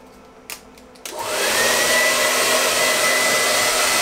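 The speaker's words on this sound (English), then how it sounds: "Hair dryers are notoriously inefficient and very few generators can power these things." A hair dryer draws power from an EcoFlow Delta 1300Wh portable power station, giving a couple of faint clicks before switching on and ramping into a loud, steady airy roar with a faint whine that holds to the end.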